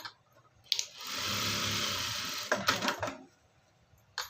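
A sewing machine puts a stitch at the shoulder seam of a garment. It gives one steady motor whir of about a second and a half, with sharp mechanical clicks and knocks before and after, up close.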